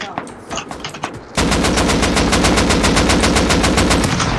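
AK rifle fire in a video game: a few scattered shots, then a loud, sustained rapid automatic burst with evenly spaced cracks, close and dominant.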